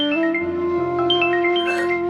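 A phone rings with a loud electronic melodic ringtone, a sequence of clear sustained tones heard close and alone.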